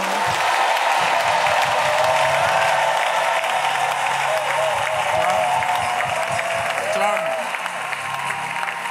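A church congregation applauds and cheers loudly throughout, a dense steady wash of clapping with shouts and voices rising over it.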